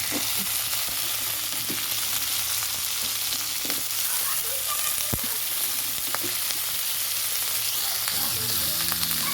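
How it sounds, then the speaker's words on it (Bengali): Cauliflower, potato and carrot fry in oil for a fish curry, giving a steady, dense sizzle with occasional stirring knocks and no voices. "আলু আর গাজর সমস্ত কিছু তেল দিয়ে ভেজে নিচ্ছি"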